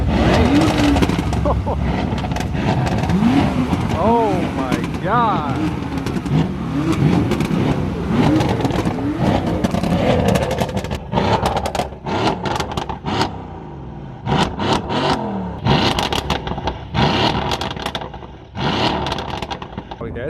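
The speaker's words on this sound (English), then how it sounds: "sounds like we got a rev battle." A Nissan GTR and a straight-piped BMW M4 F82 trade loud, close engine revs in a rev battle outside a restaurant, rising and falling roars with crackling exhaust pops, a person exclaims, and the bursts grow choppier toward the end.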